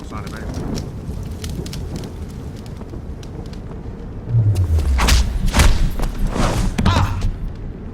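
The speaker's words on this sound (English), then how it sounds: "we'll use a non-lethal takedown on this first enemy" Non-lethal melee takedown in the video game Deus Ex: Human Revolution, a scuffle of heavy thumps and body impacts rising midway through, with a descending whoosh and dull thuds over a rumbling, rain-like ambient bed.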